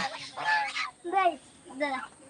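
Royal ducks (raja hans) kept in a pen give three nasal, honking calls close by, each a short harsh burst separated by brief pauses.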